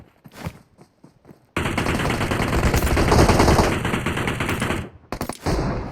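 Sustained automatic gunfire from a shooting video game, a loud, continuous rapid burst lasting several seconds, preceded and followed by short separate shots, close and dense.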